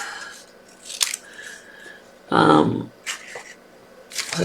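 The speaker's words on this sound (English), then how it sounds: "There's my little scissors." Small scissors snipping card during stamped tri-fold card making, a few brief close snips and crisp rustles scattered between quiet pauses, with a louder paper handling burst in the middle.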